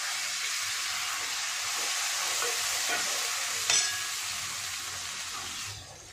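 Onions with a ground paste of ginger, cumin, coriander and chili frying in a pan, a steady bright sizzle with brief stirring scrapes, close and alone, easing off at the end.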